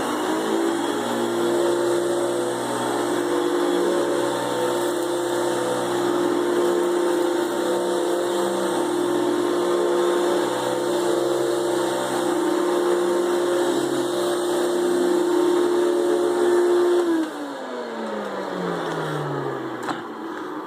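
A Hoover Celebrity vacuum cleaner runs with a loud, steady motor drone and whine, then spins down, its pitch sliding lower as it winds off near the end.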